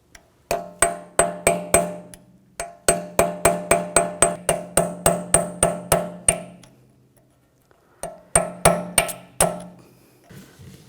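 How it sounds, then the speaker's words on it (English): A hammer strikes a chisel or punch against a peened axle nut during BMW X5 rear wheel bearing work, sharp metallic taps in quick regular bursts with ringing decay, close and loud, with short pauses between runs. "I'm just going to use a chisel or a punch and just give it a tap."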